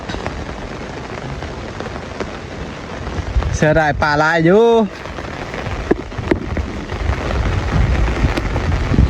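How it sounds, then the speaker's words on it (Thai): Heavy rain pours steadily in a wet-season storm during outdoor fishing, a loud continuous hiss of rain, with a voice speaking briefly over it midway. "ฝนตกเนาะ"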